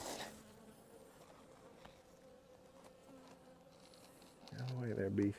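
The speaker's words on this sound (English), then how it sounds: "Out of the way there, bees." Honey bees buzz steadily around a beehive being prepped for winter, a faint continuous drone with scattered close fly-bys, swelling louder near the end.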